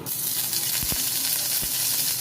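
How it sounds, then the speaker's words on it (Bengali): Onions frying in hot oil in a pan over reduced gas, a loud continuous hiss and sizzle with a couple of low thumps from the spatula, and no one speaking. "এই দেখুন পেঁয়াজগুলো ভাজছি"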